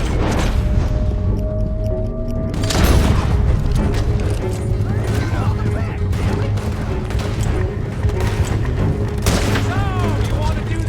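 Gunfire and booms erupt during a coach robbery in the Western video game Red Dead Redemption 2, loud and dense across the scene, with shouting voices and game music underneath.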